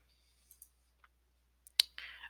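A computer mouse clicks several times in near-silence, with a few faint light clicks followed by two sharper, louder ones close together and a short burst of noise.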